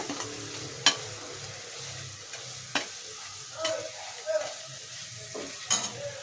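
Vangi bath mixture of brinjal with spice powder and salt being stirred in a pan: soft scraping strokes and occasional sharp taps of a spoon against the pan over a faint background hiss, with no talk.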